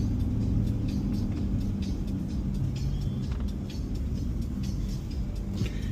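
Big SUV imported from the US, driven along Spanish country roads, heard from inside as a steady low engine rumble and road noise that continues without a break, with no talk.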